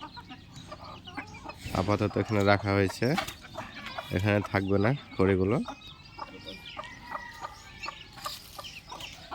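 Hens clucking in front of a house while being fed, with broody low clucks in two bursts and softer cheeps afterward, close by under a person's speech.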